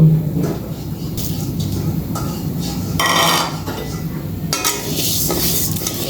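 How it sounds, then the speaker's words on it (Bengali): Mung dal is dry-fried in a pan, with scattered clinks and scraping of the stirring spoon against the metal over a soft background hiss. "মুগ ডালটাকে আমি এখন ভেজে নেব"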